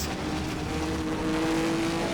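1950s Formula One race cars in the rFactor 2 racing game on the Solitude track, a steady engine roar with a rising whine, moderately loud and continuous, no talking.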